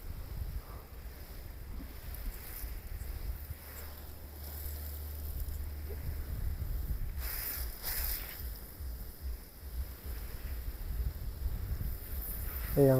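Irrigation water sprayed across leafy greens and bottle gourd vines on a vegetable farm, a continuous rain-like hiss with gusty low rumble from the microphone, steady and nearby, with brief murmurs of voices near the end.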